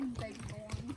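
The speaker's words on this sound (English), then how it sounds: "Look at those horses." Horses pass by on a forest hiking trail in Lincoln National Forest, their hooves clip-clopping in a quick, close run of beats beneath a steady hum and nearby voices.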